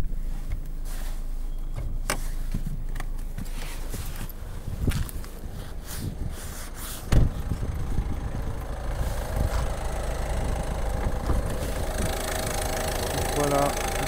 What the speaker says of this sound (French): Voilà, le son du moteur très très propre.